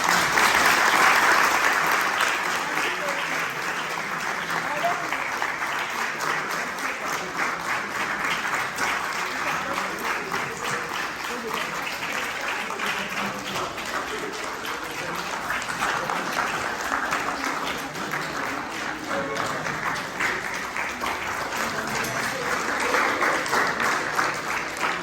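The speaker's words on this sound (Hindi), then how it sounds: "तो तालियों का शोर इतना होना चाहिए कि सारे कॉलेज में गूंजे" Sustained audience applause from MBBS students at a Theatre of the Oppressed event at PIMS Jalandhar fills the space, loud and even throughout with a slight swell at the start and end, and no talk over it.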